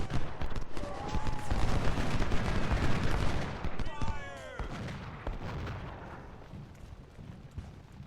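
Civil War cannon and musket fire in Ultimate General: Civil War, 1862 Peninsula Campaign, roll as dense overlapping booms and crackling volleys, loud at first and then thinning into scattered distant shots.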